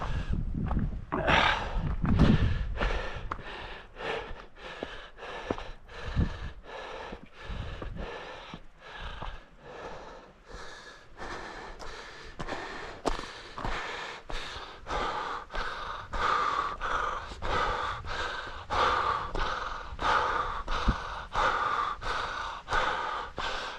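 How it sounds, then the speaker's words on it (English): A person breathes deeply and fully, drawing slow, audible breaths in a steady rhythm of repeated inhales and exhales, close and fairly loud, with no talking. "if I just let my breathing be as deep and full as it wants to be"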